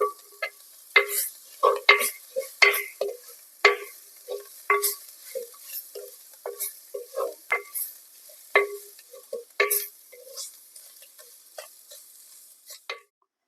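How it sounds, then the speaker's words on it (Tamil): Ground masala being stirred into frying dried fish (kuni karuvadu) and drumstick leaves in a pan, village-style thoran, with sharp repeated spoon scrapes and taps in an irregular rhythm over a faint sizzle, close and without talk. "சேர்த்து ஒரு ரெண்டுலேருந்து மூணு நிமிஷம் நல்லா கலந்து விடலாம்"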